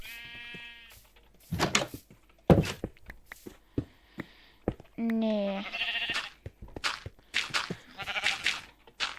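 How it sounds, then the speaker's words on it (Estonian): Sheep bleating in the Minecraft video game, a couple of short wavering bleats amid game clicks and thuds, with someone talking over much of it. "Me lihtsalt tõime lambad siia ainult."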